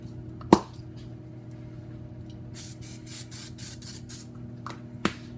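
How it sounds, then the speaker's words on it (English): Cooking spray is sprayed onto a griddle in about seven short, sharp hissing bursts in quick succession, close up, after a couple of isolated clicks. "Spray down your surface."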